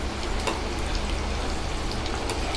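Bread and potato pakoda with capsicum, coated in gram flour and rice flour batter, frying in hot oil over a medium flame: a dense, steady sizzle with scattered crackles that stays close and loud throughout.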